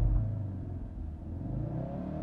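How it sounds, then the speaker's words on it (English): A Hennessey HPE400 Ford Focus RS engine bogs on launch at about 4,000 RPM, a heavy low rumble that strains and sags briefly before settling into a steady drone, close and loud with no voices. "That was a bog, it needs more RPM."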